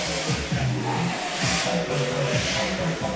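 Small electric motors of RC drift cars whine and buzz continuously with rising and falling pitch as the cars zip around an indoor track, moderately distant.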